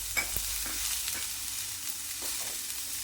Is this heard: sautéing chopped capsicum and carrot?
yes